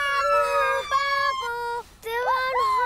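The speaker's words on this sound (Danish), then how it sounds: "Du må godt bruge den rigtige sirene, Pando." A toy fire truck siren in a children's cartoon sounds loud and close, with bright electronic warbling tones that hold, drop and swoop up again with a brief break partway through.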